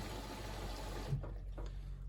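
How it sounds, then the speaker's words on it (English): Water filling into a Bosch Exxcel 1600 washing machine, a steady rushing hiss that cuts off partway through, leaving faint low hum and small drips. "Water's coming in."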